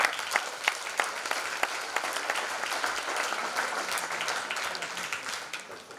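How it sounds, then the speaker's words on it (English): Applause from an audience at a school robotics event, a steady crackle of many clapping hands with a few sharper claps standing out, fading slightly toward the end. "So big round of applause to them."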